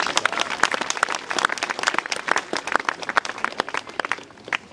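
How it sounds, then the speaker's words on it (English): An outdoor crowd at a May Day celebration with morris dancing and a May Queen crowning in Wheatley, Oxfordshire, claps enthusiastically, with sharp, uneven individual claps that rise and fall across the applause. "Give yourself a big clap."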